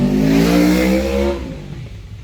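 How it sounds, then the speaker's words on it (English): A car races past on a road, its engine loud and close with a rising-then-falling whine as it passes, then fading quickly into near quiet. "always racing on my road"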